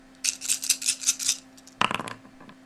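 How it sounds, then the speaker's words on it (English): Dice shaken in a cup with a fast rattling clatter, followed after a short pause by a sharp burst of dice rolling and skittering across a surface, with a faint steady hum beneath. "I downloaded a roll dice and a dice shake."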